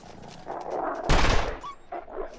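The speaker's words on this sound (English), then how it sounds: "At this point, I'm just gonna shoot them all." A single loud gunshot cracks out partway through in the survival game The Long Dark, standing out sharply over a low ambient background.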